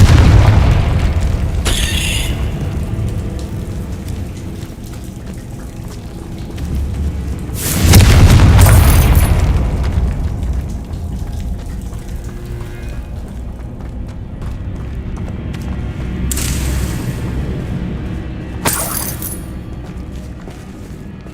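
A fiery Confringo spell blast in Hogwarts Legacy sounds as a heavy boom near the middle, with a few lighter bursts and pops before and after it over a low game background.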